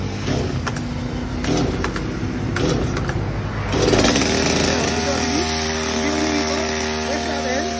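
A new Stihl MS230 chainsaw engine runs on its automatic idle setting, a loud steady buzzing drone throughout, with sharp clattering at first and the engine settling into a smoother idle partway through, people talking faintly in the background.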